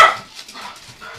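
A pet dog barks indoors, reacting to neighbours talking outside; one sharp bark opens, followed by quieter, softer yaps and rustling, with no talking.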